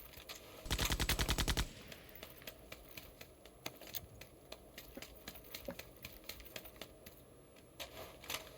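Rapid automatic fire from a 7.62 rifle in a shooter game: a dense, loud burst near the start, then scattered sharper single shots and short bursts, some nearer and some farther off.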